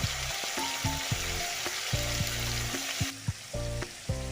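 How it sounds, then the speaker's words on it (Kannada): Chopped capsicum frying with salt in a pan for capsicum rice, with a loud close sizzle and hiss broken by repeated clanking stirs of the spatula. "ಕ್ಯಾಪ್ಸಿಕಮ್ ಫ್ರೈ ಮಾಡಬೇಕಾದ್ರೇ ಉಪ್ಪು ಸೇರಿಸ್ಕೊಳ್ಳೋಣ, ಬೇಗ ಫ್ರೈ ಆಗುತ್ತೆ."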